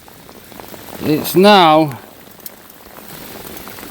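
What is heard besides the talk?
heavy rain mixed with hail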